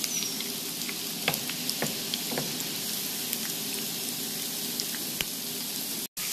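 Bacon sizzles and crackles steadily in plenty of oil in a pan, a dense continuous fry with scattered sharp pops, heard close and alone.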